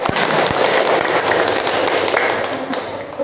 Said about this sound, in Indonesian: Sekali lagi tepuk tangannya semangat untuk kalian semua